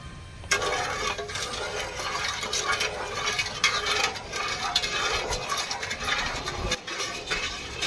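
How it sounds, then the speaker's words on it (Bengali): A spoon stirs agar agar powder into cold water in a pot, a steady scraping swirl with small clinks running without pause, close and fairly loud, no voices. "এই জলে আগার আগার পাউডার আবারও দিয়ে দিচ্ছি আমি এক চামচের মতো দিয়ে এটা ভালোভাবে মিক্স করে নেব"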